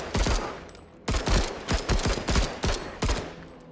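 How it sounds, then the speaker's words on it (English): Rifle fire in the tactical game MENACE, repeated sharp bursts of several quick shots each with short pauses between, loud and close, no talk. "let's continue hitting them with the rifle"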